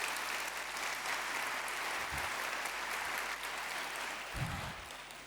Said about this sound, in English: Please make the applause